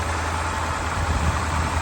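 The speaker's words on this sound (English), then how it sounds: "There's that AC compressor." The air-conditioning compressor on a 1966 Chrysler 300 convertible with a 440 big block V8 runs under the engine's steady idle, a close, continuous low hum and whir with no talking.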